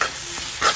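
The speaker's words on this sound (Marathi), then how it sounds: "परतून घेऊया" Spices such as pepper powder, turmeric and coriander powder are stirred and sautéed in a hot pan. A close, short scrape of stirring runs over a soft sizzle, with no talking.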